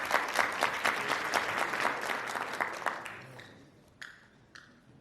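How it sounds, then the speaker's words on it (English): Audience applause at a medical education event, rapid distinct claps from a roomful of people that thin out and fade after about three seconds, leaving a few scattered final claps. "So give yourselves a big round of applause."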